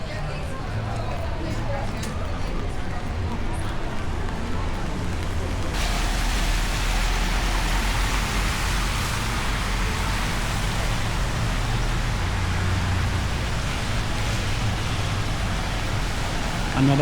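Rain falling on the streets of Benidorm, a constant hiss that grows noticeably heavier partway through and stays steady, with faint background murmur.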